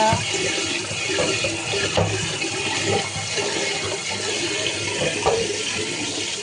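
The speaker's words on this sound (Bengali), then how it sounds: "চাল ধুয়ে নিচ্ছি বন্ধুরা।" Rice being washed by hand in water in a home kitchen, a steady splashing and sloshing wash of water that runs continuously at close range, with no talk.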